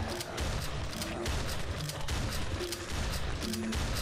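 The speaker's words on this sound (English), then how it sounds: "It's an automatic shotgun." Automatic shotgun fire in a snowman-shooting video game, a quick series of heavy blasts spaced close together, loud and near, with no speech.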